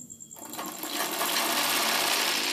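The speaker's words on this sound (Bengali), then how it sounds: "এরকমভাবে টান দিয়ে সেলাই করে নেব।" An electric sewing machine starts up and runs at a steady fast whir while stitching saree fabric into a ready-to-wear saree. The stitching is close and continuous, with no talking.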